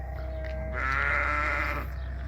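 A single drawn-out bleat from a sheep or goat at a goat farm in Al Qassim, nearby and fairly loud, wavering for about a second over a low steady background rumble.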